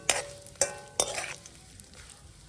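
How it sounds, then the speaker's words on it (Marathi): Thin coconut slices frying in oil while being stirred, with a few sharp scraping strokes in quick succession over a soft sizzle, then quieter bubbling, close and alone. "एक वाटी मी पातळ काप घेतले आहेत खोबऱ्याचे तेही मी तळून घेणार आहे"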